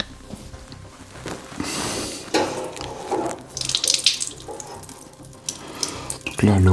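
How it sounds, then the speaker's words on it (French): Water runs from a tap inside an abandoned house, splashing unevenly with gushes and drips, close and fairly loud, with brief breathy noises and a low thump near the end. "Donc là, l'eau coule"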